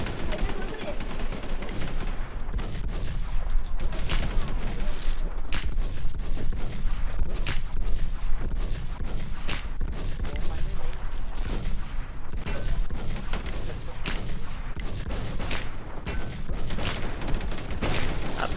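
Gunfire in a shooter video game, steady repeated shots and short bursts running the whole time, loud and close, with a voice talking at times underneath.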